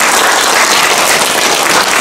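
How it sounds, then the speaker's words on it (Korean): A lecture audience in a district office auditorium breaks into loud, dense, continuous applause that fills the hall, with no talk over it. "맞다고 생각하는 사람만 박수 치고."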